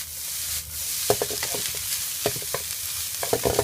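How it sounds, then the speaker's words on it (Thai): Diced Spanish mackerel fries over high heat for fish fried rice, a steady loud sizzle with repeated scraping stir strokes clattering through it, close by and without talk. "ปลาอินทรีนะคะหั่นเป็นลูกเต่านะคะ แล้วก็ทอด นี่ก็ไฟแรงๆเลยค่ะ"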